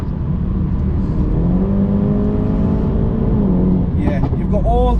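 A 2016 BMW 330e F30 plug-in hybrid with Stage 1 tuning accelerates hard, its engine note climbing steadily through the revs inside the cabin, then easing off as voices talk over it.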